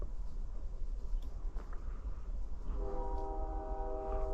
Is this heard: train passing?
yes